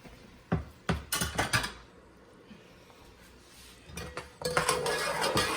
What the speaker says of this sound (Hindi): मैं बीच में मसाला हिला रही हूँ और थोड़ी सी फ्लेम और तेज कर रही हूँ